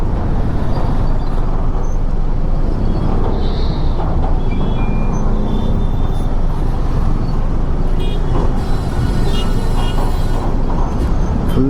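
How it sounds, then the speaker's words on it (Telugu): Dense highway traffic on the NH7 toward Bangalore airport at night, a steady loud roar of passing cars, buses and vehicles heard from a motorcycle, with occasional horn toots over the continuous noise. "ఫుల్ ట్రాఫిక్ అయితే ఉంది"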